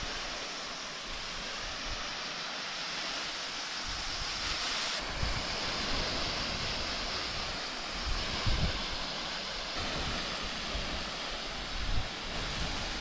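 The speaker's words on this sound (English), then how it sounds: "I'm either gonna water the jumps again to stop them from falling to bits" A garden hose sprays water onto dirt bike jumps outdoors, giving a continuous, close hiss of rushing water that holds steady with slight surges and a few low thumps.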